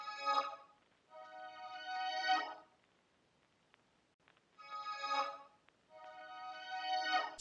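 A rendered piano sample played reversed and sped up, giving a string-like swell; two pairs of rising tonal bursts with short silent gaps between them, clear and alone.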